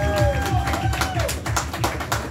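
A crowd gathered at a Pittsburgh city council campaign announcement for Khari Mosley claps in steady, loud applause, with a voice speaking over the clapping throughout.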